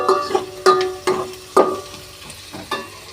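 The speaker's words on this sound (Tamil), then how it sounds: "வெங்காயம் போட்டு நல்லா வணக்கி வச்சுப்போம்." Onions sauté in oil in a pan for a spicy bitter gourd curry, with sharp spoon strokes knocking against the pan at a steady rhythm over a soft sizzle, close and loud.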